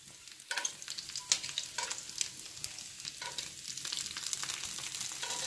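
Onion fries steadily in a pan, a continuous crackling sizzle with scattered sharp pops and occasional stirring scrapes, close and unaccompanied by any voice.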